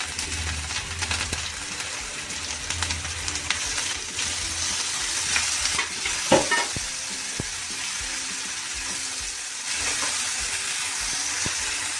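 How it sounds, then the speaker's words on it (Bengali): Tomato paste with ginger and garlic paste sizzles steadily in a hot pan for dhaba-style chicken bharta, with occasional spatula scrapes and clicks as it is stirred, and no voices. "টমেটোটা ভালো করে, টমেটোর কাঁচা গন্ধটা না যাওয়া পর্যন্ত একটু আমরা ভালো করে কষিয়ে নেব"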